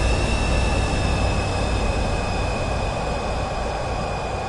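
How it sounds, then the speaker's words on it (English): Aircraft engines in Microsoft Flight Simulator 2024 give a loud, steady broadband roar with a sustained whine on top, unbroken for the whole stretch and with no talk. "listen to those engines"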